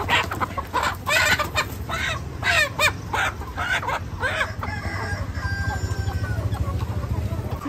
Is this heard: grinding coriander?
no